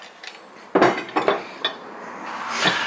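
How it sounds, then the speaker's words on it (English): A 19mm lock nut being tightened with a socket on a fender rolling tool for flaring wheel arches, giving a few sharp, close metallic clinks and clanks over quiet room tone. "I'll just give that a tighten up with a socket."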